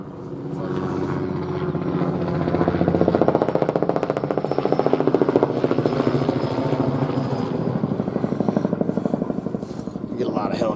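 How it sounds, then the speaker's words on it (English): A helicopter flying overhead, a steady thudding rotor beat that holds loud and close for the whole stretch, with people talking underneath. "here comes the helicopter."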